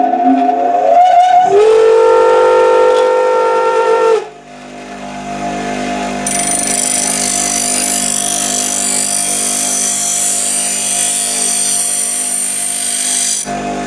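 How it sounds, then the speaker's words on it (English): A grinding wheel sharpening a tool, loud and close: a sustained whining hum with a harsh, bright grinding rasp that comes and goes, then holds steady for several seconds. "generally when I'm sharpening things, I use a grinding wheel"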